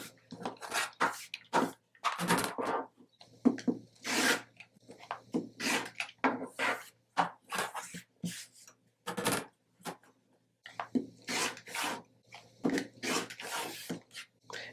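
Fabric squares, 4.5 inches each, being cut for a quilt: a long run of short, crisp scraping and rasping strokes in uneven bursts, close by, with brief pauses between cuts and no talk.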